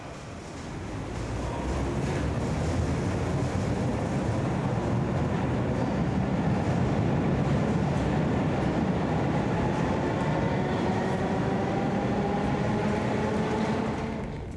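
A restored 1930s Berlin U-Bahn train pulls out of Schönhauser Allee station, a steady loud rumble of wheels and motors with rising whine tones building as it accelerates, continuous throughout.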